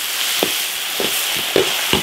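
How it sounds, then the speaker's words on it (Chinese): Dried chilies, mountain pepper paste, chili paste, celery and cilantro stir-fried in hot oil in an iron wok, a steady loud sizzle broken by four sharp spatula scrapes and tosses spread evenly through the clip. "加调料炒香"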